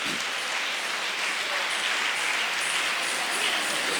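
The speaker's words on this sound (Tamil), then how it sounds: "அனைவரும் கைதட்டி வாழ்த்துமாறு அன்புடன் வேண்டுகிறோம்" An audience at the MILIR 2025 event claps together, producing a faint, even hiss of many distant hands that blurs into a steady rain-like texture without distinct individual claps.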